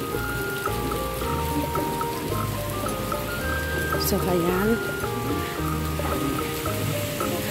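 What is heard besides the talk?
heavy rain falling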